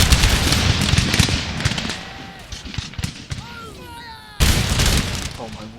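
Musket and artillery volleys crash and rattle in an Empire: Total War battle between line infantry armies, dense overlapping gunfire that dips mid-way and then surges back, with voices shouting over it.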